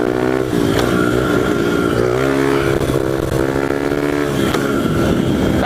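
A pit bike's small engine revs hard in fourth gear, a loud, buzzing, chainsaw-like drone that holds steady with slight rises and dips in pitch, close to the microphone, no talking.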